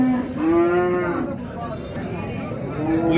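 Two female calves at a sheep, goat and cattle market in Mashtaga, Azerbaijan, giving a long drawn-out moo close by and then another, over low crowd chatter.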